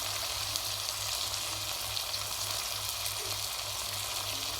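Masala spices (crushed red chilli, ground coriander and turmeric) fry for kaleji in a pan, giving a steady, fairly loud sizzling hiss that stays even throughout with no talking.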